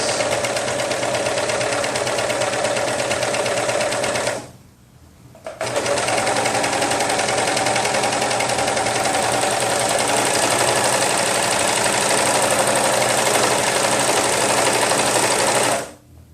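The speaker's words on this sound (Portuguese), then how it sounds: "Então, passei a overlock no decote, só para dar firmeza na bainha" An overlock sewing machine runs in a fast, steady buzz while stitching a T-shirt neckline, stopping briefly for about a second before resuming and continuing to the end.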